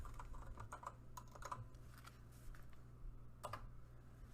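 Fast, irregular keystrokes on a computer keyboard in a home streaming setup, clustered in short bursts of clicks over a steady low hum, close and moderately quiet.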